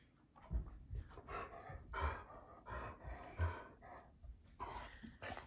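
A dog named Frank pants in quick, rhythmic breaths, close and quiet, with no talking over it.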